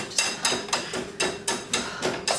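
A whisk beats eggs in a bowl for a French silk pie, steady rhythmic strokes clattering about twice per second, close and fairly loud, with no speech.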